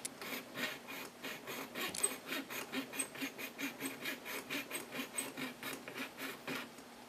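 A plastic puzzle cube center cap is cut with a steady back-and-forth rasping, around twenty even strokes in a regular rhythm, close and clear.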